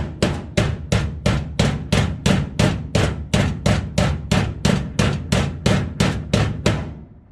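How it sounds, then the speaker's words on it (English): A hammer taps a metal body panel of a 1970 Plymouth 'Cuda about twenty times in a steady, even rhythm, each strike a sharp ringing clang that fades before the next, close and loud. "If I just keep on tapping it with my hammer, I should take care of it."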